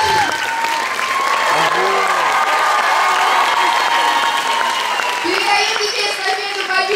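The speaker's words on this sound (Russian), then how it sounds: "Давайте бурными аплодисментами ее сейчас поприветствуем." A festival audience in Sochi breaks into loud, sustained applause with some cheering, while a host's voice and background music carry on over the clapping throughout.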